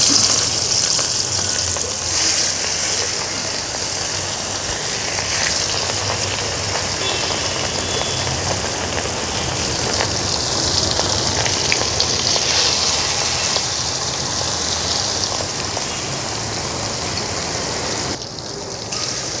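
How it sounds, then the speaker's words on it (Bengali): Fish frying in a pan on a clay stove inside a thatched hut, a loud, constant, rain-like hiss and sizzle that continues throughout with no voices. "ভাজা আমার রেডি, মাছ সুন্দর ভেজে উঠছে"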